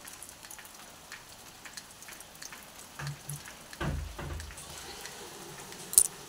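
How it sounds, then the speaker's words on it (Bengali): Heavy rain pours outside as a steady, soft hiss throughout, with a brief louder splash or thud near the middle and a sharp tick toward the end. "বাইরে ঝমঝমিয়ে বৃষ্টি হচ্ছে, কি অবস্থা!"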